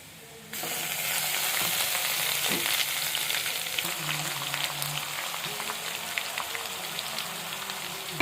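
Ground masala hits a pan of sautéed onions and curry leaves and sets off a loud, steady sizzle of frying that runs on without a break, with faint stirring scrapes underneath.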